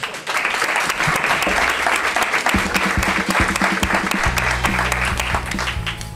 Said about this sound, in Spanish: este público maravilloso que aplaude delicioso y que nos va a regalar otro aplauso